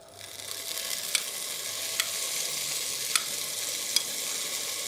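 Garlic frying in olive oil, a steady close hiss of sizzling with a few sharp scraping stirs at regular intervals, no voices.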